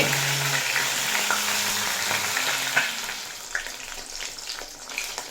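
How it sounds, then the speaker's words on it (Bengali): Catla fish heads fry in hot oil in a pan, a dense, continuous sizzle with occasional sharper pops and spits, close up and without speech. "তো এই মাছের মাথাগুলো খুব ভালোভাবে ভেজে নেব"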